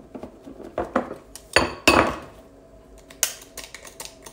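A utensil scrapes and knocks against a bowl in irregular clinks and taps while cheesecake mixture is stirred and sugar added, with a few sharper metallic hits standing out close up.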